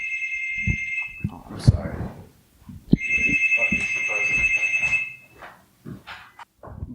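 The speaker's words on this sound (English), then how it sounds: "Before we were ceremoniously interrupted by the buzzer" A loud, steady electronic buzzer goes off twice in a podcast studio, each blast lasting one to two seconds, while people keep talking over it.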